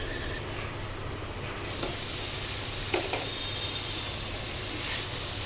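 Broccoli with red, green and yellow capsicum frying in a pan for a mixed veg curry, a steady close sizzle and hiss with occasional stirring scrapes and clinks, no voices.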